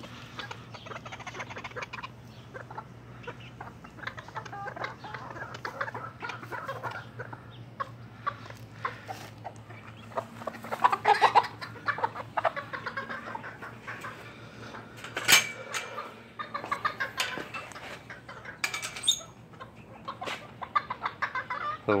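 Chickens and quail cluck and chirp in a backyard garden, a busy, steady chorus of overlapping calls with a few louder, sharper squawks near the middle and end, and no talking.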